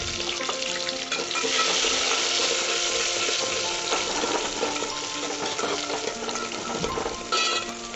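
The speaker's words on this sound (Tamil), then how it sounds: "வெங்காயத்தையும் சேர்த்து நல்லா வணக்குங்க" Onions sautéing in hot oil with mustard seeds and urad dal in a pot for an egg curry, giving a steady, close hiss and crackle with occasional stirring scrapes.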